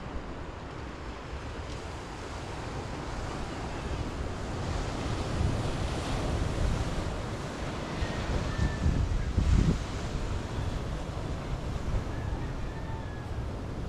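Ocean waves roll and wash steadily at the sea of Bukana, a broad continuous surf roar with wind buffeting the microphone and one louder surge near the end.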